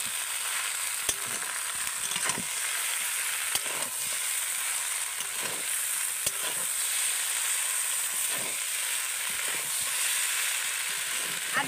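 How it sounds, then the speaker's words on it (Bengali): A sauce of soy sauce and tomato sauce sizzles steadily in a hot pan for a long stretch, with repeated spatula scrapes and taps at irregular intervals. "এবার আমি ভালো করে নেড়ে চেড়ে নেব।"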